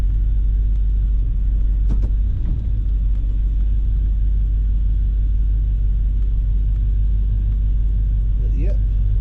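A 1981 Chevrolet Silverado engine idles after an icy cold start, a steady low rumble holding at a constant level for the whole stretch, close and loud, with a few faint clicks on top.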